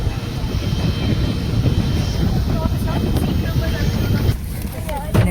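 A steady, loud jet engine roar at an airport fills the space, with wind noise and voices talking over it.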